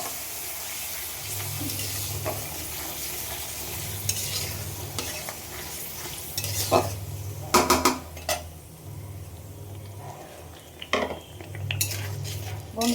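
Bay leaves, cinnamon and cardamom frying in a pan under steady stirring, with a continuous sizzle, repeated metal scrapes and clanks of the spoon against the pan, and a low rhythmic hum in the background.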